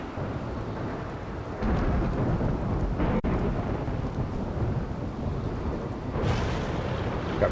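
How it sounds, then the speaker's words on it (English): Steady rain pours down in a video game storm, with a low rumble of thunder rolling beneath the constant hiss and a brief crack partway through. "It's raining, we'll be fine."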